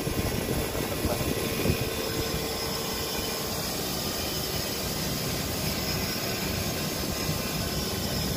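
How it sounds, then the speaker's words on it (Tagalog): Samsung DVM S air conditioner starting its compressor and fan, a steady broadband whirring drone, loud and constant, with a faint rumble underneath. "Maantar na yung compressor. Yung fan."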